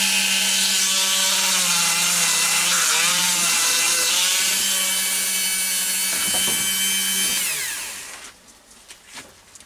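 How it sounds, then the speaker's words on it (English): A Dremel rotary tool works inside the threaded nose of a Myford ML7 lathe spindle, cleaning out machining swarf. A loud, steady high-pitched whine with grinding scrape persists for about eight seconds, then cuts out, leaving a few faint knocks. "on my Dremel just to go up and down inside that thread"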